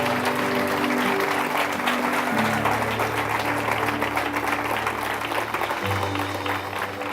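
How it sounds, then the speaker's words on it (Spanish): Sustained applause from a church congregation during a sermon, continuous full-room clapping with a steady low tone sounding underneath it the whole time. "Vamos, dale un aplauso a Dios por eso."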